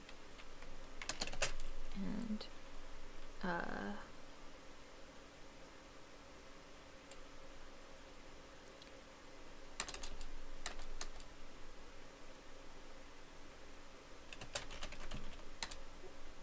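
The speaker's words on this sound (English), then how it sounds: "I'm typing so bad today." Scattered bursts of quick keyboard clicks against a faint hiss, coming in irregular clusters with long quiet gaps; a single short spoken word.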